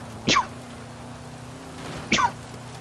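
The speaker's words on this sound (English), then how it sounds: "oh my god, I'm gonna sneeze again." Two sharp sneezes, about two seconds apart, each a sudden explosive burst close to the microphone over a quiet background.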